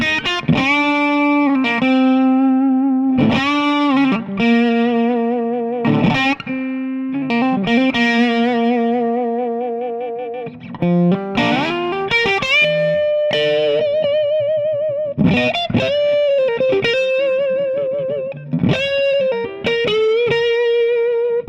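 An electric guitar played through a Bluesmaster 50 amp on its clean channel with the preamp boost switched on gives sustained single notes and short phrases with clear harmonics and slight grit, played alone, loud and close.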